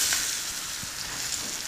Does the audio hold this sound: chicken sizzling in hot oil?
yes